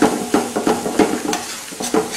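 Curry paste with gravy and kasuri methi sizzles as it fries in a pot, stirred with a spoon in quick scraping strokes that recur every few tenths of a second, close and clear without talk.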